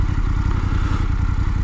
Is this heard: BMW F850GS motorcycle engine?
yes